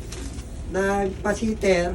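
Pigeons cooing in a breeding loft, a few soft throaty coos close by while someone talks over them.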